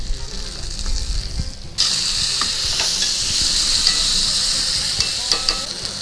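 Iberico pork neck fries in its own rendered fat in a pan with a steady, close hiss and crackle that swells louder partway through, punctuated by light stirring clicks.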